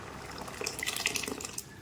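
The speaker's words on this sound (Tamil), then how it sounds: "இப்போ வந்து நம்ம வடித்து வச்சுருக்கிற அந்த பருப்பை ஊற்றிடலாம்" Cooked, drained lentils poured into a pot of salted water in a home kitchen while making a white pumpkin dish, a steady watery splashing and trickling throughout.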